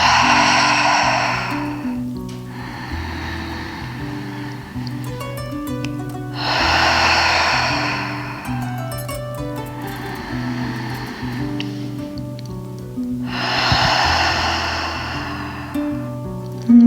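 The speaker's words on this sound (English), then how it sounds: "taking some deep inhales through the nose and releasing, grounding exhales out the mouth" Slow, deep breathing during a vinyasa yoga flow: long inhales through the nose and grounding exhales out the mouth, several broad, airy breaths in a calm rhythm over soft background music.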